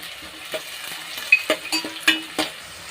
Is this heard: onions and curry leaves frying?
yes